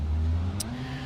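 A car driving in the factory-building game Satisfactory, a steady low engine drone close up with a brief high hiss midway, no talk.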